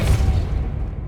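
Depulso spell cast in Hogwarts Legacy, heard as a single loud, deep booming blast that rumbles briefly and fades within about a second.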